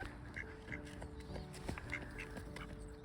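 Ducks quacking in short, repeated calls among other waterfowl on a windy Norwegian shore, with strong gusting wind roaring steadily underneath and a voice speaking faintly at times.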